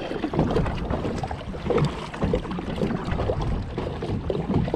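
A kayak pushes into a headwind on a shallow fishing lake, with steady broadband wind and water wash and faint paddle splashes close to the microphone throughout.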